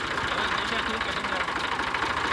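A tractor stuck in the field runs with a steady, loud engine drone and a rough, knocking rumble that continues without a break.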